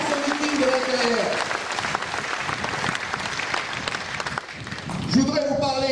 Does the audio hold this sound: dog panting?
no